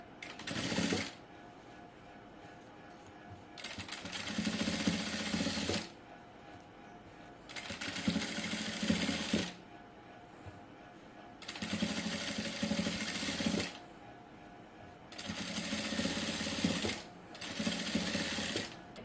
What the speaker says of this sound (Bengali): উল্টিয়ে আমি এই সাইড দিয়ে একটি চাপ সেলাই দিয়ে দিব।